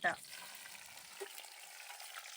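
Tomatoes and green chillies frying in hot oil, with a steady soft sizzle and a brief clatter at the start, then an even hiss throughout.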